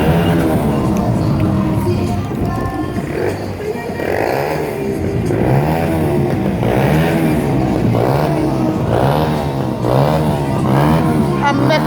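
Motorcycle engine revving repeatedly in rising and falling surges on a street in Spanish Town, loud and close, with crowd noise and scattered voices around it.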